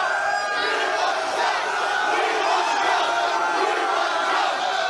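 Vancouver Canucks hockey fans at a playoff game against the Predators keep up a loud, sustained roar of chanting and cheering, a dense crowd wall of sound with no break.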